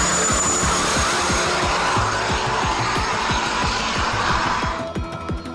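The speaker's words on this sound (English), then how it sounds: "the adrenaline-pumping action of loaded semi-drag racing, pulling over 140 kLBs of lumber uphill" Loaded semi trucks pulling over 140,000 lb of lumber drag race uphill at a Big Rig Challenge at Onaway Speedway, Michigan, giving a loud, continuous, pulsing diesel roar that drops away near the end.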